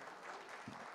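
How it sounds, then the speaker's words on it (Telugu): Audience applause at a Telugu film pre-release event for Santhana Prapthirasthu, a steady wash of clapping filling the hall for about a second with no voices over it. "Every one has to clap for her."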